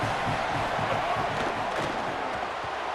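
Dense, steady roar of a home stadium crowd cheering at a college football game in College Football 27, a loud continuous wash of massed voices with no break.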